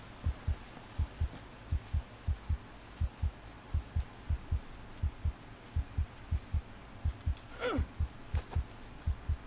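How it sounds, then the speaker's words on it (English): The pounding heartbeat effect in the survival game Green Hell plays as a regular series of low double thuds, roughly one per second, with a short breathy gasp near the end. "Heartbeat noise can stop anytime now,"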